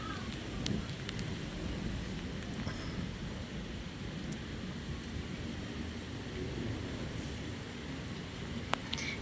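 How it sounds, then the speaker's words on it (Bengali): Heavy rain falls in an unbroken, dense roar during a storm, constant and enveloping, with occasional faint ticks and a distant low rumble underneath and no voices. "এখন থেকে দেখো বৃষ্টি প্রচুর পরিমাণে শুরু হয়ে গেছে"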